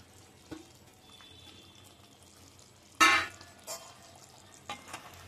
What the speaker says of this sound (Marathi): याच्यामध्ये आपण त्या भाज्या शिजवून घेतलेल्या बटरमध्ये ते आपण ॲड करूया.